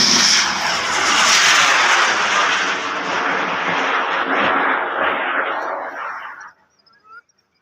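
A large ten-thousand-class Thai bamboo rocket (bung fai) launches at a rocket festival with a loud, continuous roaring rush that holds for about six seconds, then cuts off abruptly into near silence.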